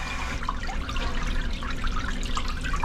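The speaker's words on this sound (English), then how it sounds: "All right away I hear water passing through here." Steady trickling water runs continuously up close through a Hoshizaki ice maker that is not making ice, with faint drips and gurgles layered over a low mechanical hum.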